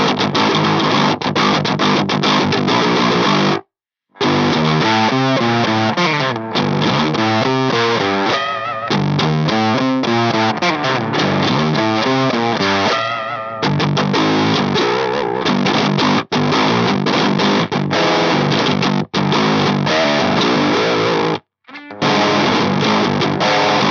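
Electric guitar played through an EarthQuaker Devices Palisades Mini overdrive pedal into a Harley Benton GPA100 live setup, loud and continuously distorted with chordal strumming and riffs, broken by a few brief dead pauses.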